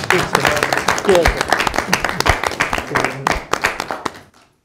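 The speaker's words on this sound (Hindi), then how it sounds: "आज अपने लिए भी जोरदार तालियां मुझे" A crowd at a Christmas mushaira poetry event breaks into loud, dense clapping that rolls on steadily, then quickly fades away at the end.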